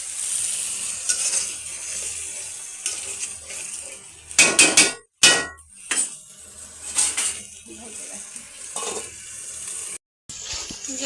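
Spices sizzle in a pan while a metal spatula clinks and scrapes, with a few sharp clanks in the middle and short pauses. No one speaks.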